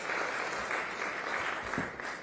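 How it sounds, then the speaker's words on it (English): Applause from an audience at a Cincinnati Music Festival safety event, a moderate wash of clapping that stays fairly even for a couple of seconds as someone walks up. "Give her a round of applause as she comes."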